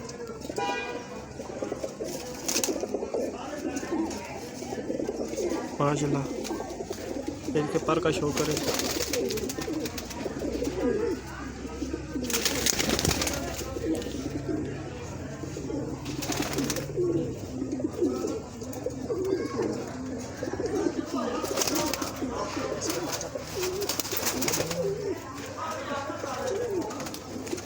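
Teddy pigeons, a breeder's pet birds, coo softly and repeatedly in the background while someone talks over them almost throughout, with a few brief louder bursts standing out.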